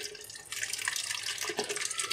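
Water pours steadily into a blender jar holding mash dal, close by, a continuous splashing rush lasting a couple of seconds with no voices.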